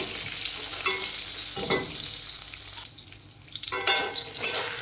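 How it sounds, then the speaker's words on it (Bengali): Whole potol, a pointed gourd, fry in a pan with a continuous close sizzle broken by scraping stir strokes and short louder bursts of crackle. "দেখেন এখানে পটলগুলো বেশ ভালো করে ভাজা হয়ে গেছে, আর একটু ভাজবো।"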